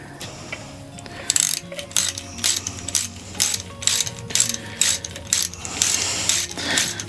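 A ratchet torque wrench tightens nuts onto engine case studs to 14 foot-pounds, giving close, crisp bursts of rapid clicking that repeat in a steady stop-start rhythm over a faint background, with no talking.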